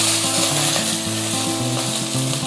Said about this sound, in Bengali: ফোড়নে দিয়ে দিলাম গোটা জিরে, আর দিয়ে দিলাম কিছুটা কাঁচা লঙ্কা।